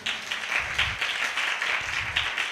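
Congregation at a Christmas sermon clapping loudly and steadily together, a dense, sustained round of applause filling the room.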